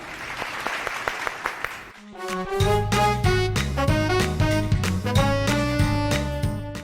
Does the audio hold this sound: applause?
yes